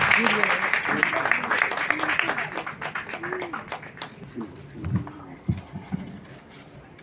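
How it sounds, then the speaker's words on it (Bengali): Audience applause at a short and documentary film festival opening in Kolkata, a moderate crowd clapping steadily at first, then thinning into scattered claps with some voices and movement mixed in. "জোরে হাততালি সকলে।"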